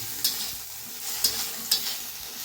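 Ginger and tomato fry with cumin in a pan, a low sizzle punctuated by three or four sharp stirring scrapes at regular intervals and a louder clank at the end.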